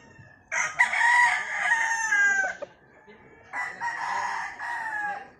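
A bullstag, a young gamecock, crows twice nearby, each call a loud, strained cock-a-doodle-doo with a short pause between them.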